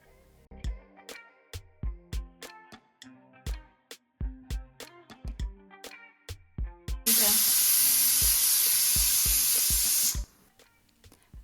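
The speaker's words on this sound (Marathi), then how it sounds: "पॅनमध्ये बटर टाकून त्यात शेंगादाणे तळून घेऊत." Peanuts are fried in butter in a pan: a run of sharp, irregular knocks and taps gives way to a loud, steady hiss and sizzle lasting about three seconds that then cuts off.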